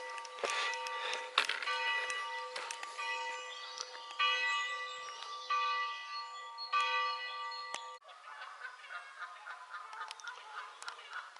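Church bells ring faintly from a distance over a sunny riverbank with bluebells and wild garlic. Geese honk sharply in bursts throughout, and the whole scene is quiet and open.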